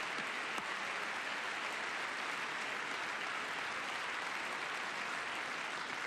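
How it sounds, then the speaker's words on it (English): Congress members clapping during a presidential speech to Congress, a steady, even wash of applause that holds at a moderate distance throughout, with no voices standing out. "some of them are clapping"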